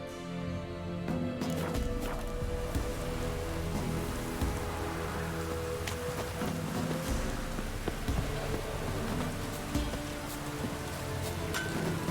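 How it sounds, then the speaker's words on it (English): Heavy rain downpour drumming steadily on a surface, a dense continuous roar that stays loud and close throughout, with faint talk briefly underneath. "Proper downpour, this is."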